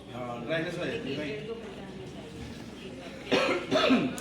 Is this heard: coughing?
yes